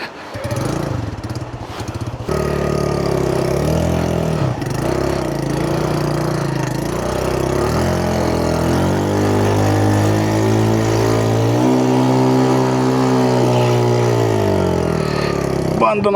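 A motorcycle engine with a newly developed odd noise idles and revs steadily up close after rain, its pitch rising and falling, with an uneven knocking undertone throughout.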